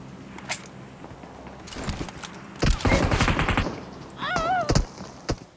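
Gunfire in the mobile shooter BGMI: scattered single shots give way to a dense automatic burst in the middle, followed by a few more cracks amid game sound effects, moderately loud.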